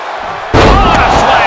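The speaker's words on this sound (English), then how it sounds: "What a slam!" Body slam in a wrestling video game: a loud, sudden impact followed by sustained crowd roar, with commentary voices underneath.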